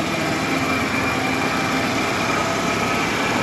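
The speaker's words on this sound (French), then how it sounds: "On voit un moteur qui tourne voilà," A 1994 Ford F-150 XLT 4x4 engine idles steadily at low revs, a constant close mechanical hum with no variation or other sounds.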